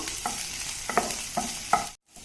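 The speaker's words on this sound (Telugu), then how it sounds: "పచ్చి ముక్కలు అలాగే అల్లం ముక్కలు పచ్చివాసన పోయేంత వరకు, కొంచెం కలర్ చేంజ్ అయ్యేంత వరకు ఫ్రై చేసుకోవాలి" Green chilli and ginger pieces frying in oil over a low flame for samosa filling, a soft steady sizzle broken by four scraping stirs of the spoon before a brief cutoff.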